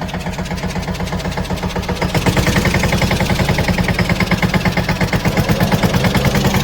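A tractor engine runs in gear nearby, its loud, rhythmic chugging thumps growing stronger and steadier partway through and continuing without any speech.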